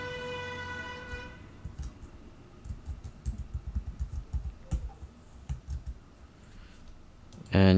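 A computer keyboard clicks in a quick run of keystrokes as a name and password are typed, with brief talking at the start and a short tone at the end.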